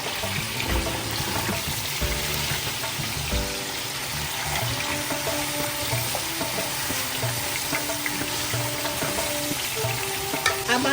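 Mutton cooks in a pot, sizzling and bubbling steadily and loudly throughout while its juices reduce, with occasional stirring scrapes and no talk.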